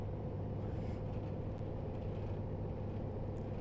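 Truck engine in the driving video game Euro Truck Simulator 2, a steady low diesel rumble droning evenly from start to finish, fairly quiet with no voices.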